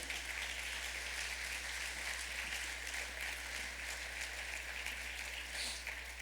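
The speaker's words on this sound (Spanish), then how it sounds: "dele un fuerte tributo de palmas al Rey de Gloria." A church congregation claps together in praise, a continuous, fairly distant patter of many hands over a constant low electrical hum.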